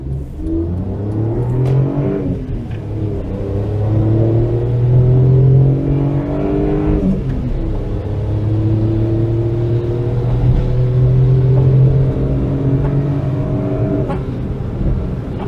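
A Daewoo Matiz engine, freshly serviced with new leads, oil, air and oil filters and spark plugs, revs up and holds in two long, loud pulls, settling back to idle in between, with no one speaking.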